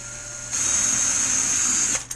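A power drill boring a pilot hole into the wooden transom of an RC gas boat kit, a steady high-pitched whine that starts abruptly and runs for about a second and a half, close and alone.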